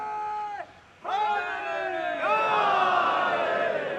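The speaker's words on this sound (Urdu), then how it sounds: "آپ کی نعرے صلوات کی فرمائش والی آواز مجھے کم سنائی دے رہی ہے" A crowd at a religious majlis gathering chants salawat slogans in unison, with sustained voices that briefly dip and then swell back louder and fuller.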